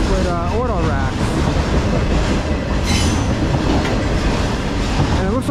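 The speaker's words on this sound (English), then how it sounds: "CSX manifest with auto racks." A CSX manifest freight train hauling auto racks rolls past close by with a steady, loud rumble and clickety-clack of wheels, plus faint squealing wheel tones near the start and end.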